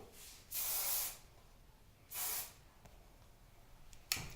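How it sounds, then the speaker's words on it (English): Two short hissing sprays from a hairspray can onto a ponytail, close and bright, with a quieter click and spurt near the end. "Spray it down."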